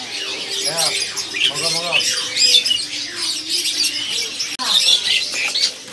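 Perkutut doves and other caged birds at a bird kiosk fill the air with dense overlapping chirps, squawks and coos, with a few voices talking faintly underneath.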